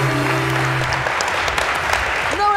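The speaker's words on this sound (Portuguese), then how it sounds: "Uma salva de palmas" A crowd claps steadily in a dense burst of applause, with some voices mixed in underneath and a brief sliding tone near the end.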